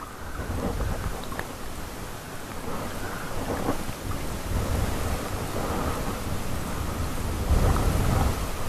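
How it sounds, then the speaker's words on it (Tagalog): A storm at sea with big waves: a steady roar of wind-driven rain and surf, low rolling thunder swelling now and then, loud and continuous with no voices. "Unos!"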